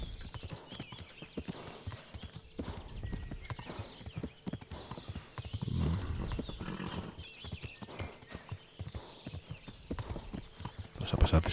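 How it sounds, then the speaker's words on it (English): Horse hooves clip-clop at a steady trot in the medieval game Kingdom Come Deliverance, with an occasional snort or whinny, and a louder burst of hoofbeats near the end. "Vamos a pasar despacito, que el caballo recupere un poco el aliento. Vamos al trote."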